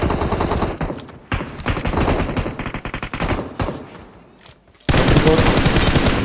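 Rapid automatic gunfire from an online shooter game rattles in long, loud continuous bursts, briefly easing before a dense volley resumes; a player talks faintly underneath.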